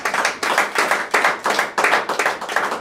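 A church congregation claps in a steady rhythm during an evangelical service, about three sharp claps per second, loud and close, with no talking over them.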